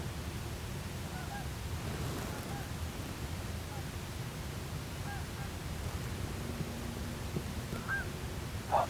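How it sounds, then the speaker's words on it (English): A flock of geese flying over, honking in the distance, scattered faint calls over a steady outdoor background rumble during a Pennsylvania bear hunt. "Some geese."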